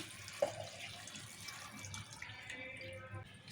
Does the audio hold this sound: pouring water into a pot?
yes